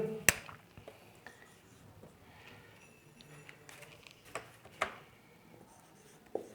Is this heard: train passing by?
no